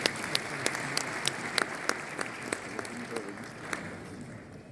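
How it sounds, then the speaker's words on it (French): An audience applauds at the opening conference of an insurance summit in Marrakech, sustained clapping from a large crowd with sharp individual claps standing out, moderately loud and heard from a distance in a big hall. "Sous vos applaudissements, s'il vous plaît."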